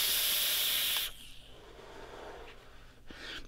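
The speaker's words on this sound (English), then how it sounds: "But nice and swooshy, plenty of airflow if you want it." Air rushes loudly and close through the wide-open airflow of a Vandy Vape Mato RDTA for about a second, then drops to a softer, lingering breathy hiss.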